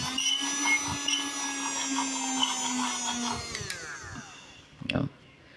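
A repaired mini handheld vacuum cleaner with a rebuilt charging circuit runs close by with a steady, high whirring whine, then spins down and stops, followed by a short clunk.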